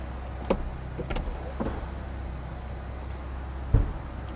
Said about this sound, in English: I will run the roof to show you that the roof operates and to show you the speed with which the roof operates